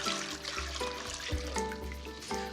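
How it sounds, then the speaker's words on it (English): Chicken stock, about four cups, poured into a pot of garlic for a sweet and sour fish soup, giving a steady close liquid splashing and trickling sound with a low gurgling rumble that lasts throughout. "I'm adding 4 cups of chicken stock into that lovely garlicky pot."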